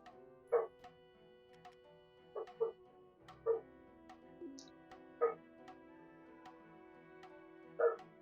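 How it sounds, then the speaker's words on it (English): A pet dog indoors, a female, gives a string of high whimpers and short yips, about six spaced bursts over a quiet background, fairly faint and distant from the microphone. "Dog's getting a little excited about something."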